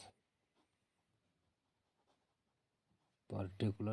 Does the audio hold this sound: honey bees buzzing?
no